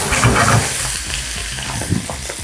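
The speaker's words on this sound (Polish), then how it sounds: "Olej po smażeniu boczniaków wykorzystuję do tego, żeby nasycić smakiem umami smażonego, grillowanego kurczaka." Chicken sizzling and frying in oil left over from frying oyster mushrooms, with steady crackling and stirring sounds close by, continuous through the clip with no talk.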